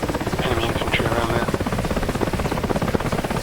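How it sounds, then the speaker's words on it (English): A transport helicopter in the combat flight simulator DCS beats steadily with a loud, rapid rotor thump and a droning buzz, sustained and close throughout. "transport helicopter drop off more troops"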